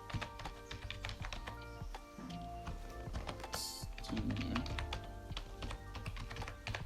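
Quiet, close keystrokes on a computer keyboard as an email address is typed, an irregular stream of soft taps with brief pauses.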